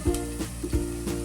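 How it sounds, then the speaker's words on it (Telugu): Ginger garlic paste fries in a hot pan for chicken bagara rice, a soft steady sizzle broken by a few low scraping stirs. "అల్లం వెల్లిపాయ పేస్ట్ వేసిన తర్వాత బాగా కలుపుకోవాలి, ఫ్రై చేయాలి బాగా పచ్చి వాసన పోయేదాకా"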